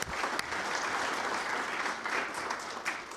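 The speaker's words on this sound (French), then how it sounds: "Je propose d'applaudir Nathalie." Applause from an audience at a talk on recreational submarines, a dense steady wash of clapping that starts sharply and holds at an even level for about three seconds, with no voices above it.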